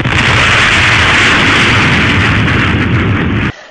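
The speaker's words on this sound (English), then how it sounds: "it is audible as a sonic boom" A loud, sustained roaring rumble like a powerful blast that holds steady for several seconds and then cuts off abruptly.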